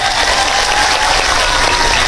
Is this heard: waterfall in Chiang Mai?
no